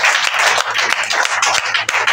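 A congregation applauding during a church service, rhythmic close claps in a steady beat over a low sustained hum, loud and bright.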